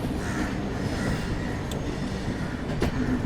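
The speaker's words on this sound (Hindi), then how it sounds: "इसकी रेक की शंटिंग चल रही है बेसिकली।" An Ahmedabad–Chennai Humsafar train rake of 3rd AC coaches is shunted, giving a continuous loud rolling rumble with a sharp clank near the end and a crow cawing faintly in the background.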